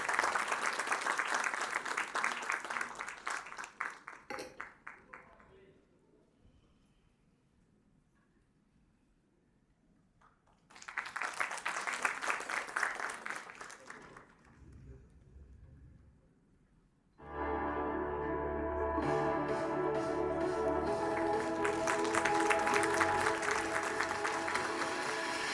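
An audience at a scientific event's inauguration ceremony claps in bursts, with loud applause for a few seconds, a quiet gap, another short round, then music-like tones joined by renewed sustained clapping.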